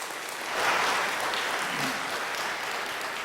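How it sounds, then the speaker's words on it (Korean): A church congregation at a Sunday worship service claps in welcome for new members, a dense, even wash of applause that swells slightly after the start and holds steady throughout. "여러분들 환영의 박수 부탁드리겠습니다"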